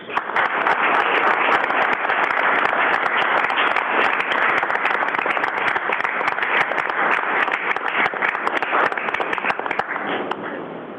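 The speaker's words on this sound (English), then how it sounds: "We can just have a round of applause to all of our winners." Audience at a city council meeting applauding award winners, dense sustained clapping from many hands, loud and even for about eleven seconds before tapering slightly at the end.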